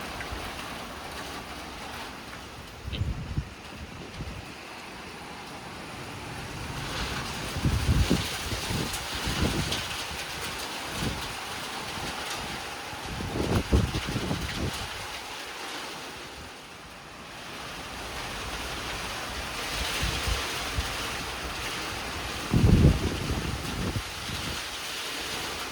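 Strong gusty wind and rain at a lake buffet the microphone in loud bursts over a steady rush of water and surf, with no one speaking.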